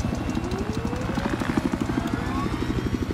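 Helicopter in the Battlefield 4 video game, a loud steady rotor chop with fast rhythmic pulsing and a rising whine, filling the clip alongside game noise.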